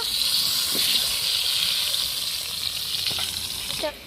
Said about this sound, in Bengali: এবারে আলুটা আমি ভেজে নেব